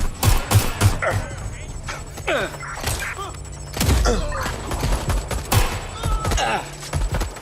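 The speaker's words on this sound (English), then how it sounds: "I'm taking fire!" Gunfire in the Watch Dogs: Legion video game, sharp scattered shots and thuds in irregular bursts, several loud cracks spaced across the stretch, mixed with game effects and some muffled voices.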